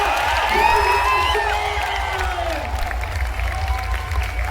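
A large student crowd at an education event (Eduvision 2025 at LPU) cheers, whoops and shouts continuously, with applause blended into a dense, loud roar that holds steady throughout.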